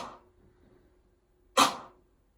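A snare drum layered with a clap sounds once as a single punchy, bright hit with a short tail, after a faint decaying sound at the start.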